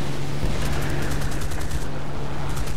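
Rapid, sustained 20mm cannon bursts from a Mustang fighter plane in a video game, loud and continuous over a steady engine drone.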